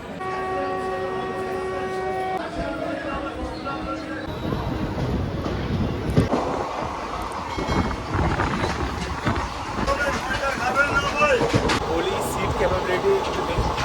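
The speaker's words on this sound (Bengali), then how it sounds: "ট্রেনটা বেশ ভালোই কিন্তু জোরে স্পিডে চলছে" A passenger train runs at high speed, heard from on board as a continuous rumble and rattle. A sustained horn-like tone sounds at the start before the clatter of the wagons takes over.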